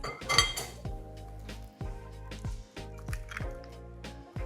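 A whisk clinks against a bowl while mixing flaxseed powder and water into an egg replacer, in quick repeated strokes with metallic chinks and wet swishes, close and moderately quiet.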